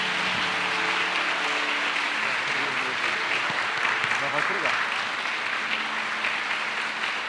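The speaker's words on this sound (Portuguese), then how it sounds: "com uma forte e calorosa salva de palmas a Deus" A church congregation gives a strong, warm round of applause, a dense steady clapping that fills the room from start to finish with a few voices mixed in.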